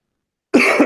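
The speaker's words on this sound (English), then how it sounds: "And I do apologize for coughing, guys." A man coughs once, close and fairly loud: a single harsh burst after a silent start, with a second smaller push near the end.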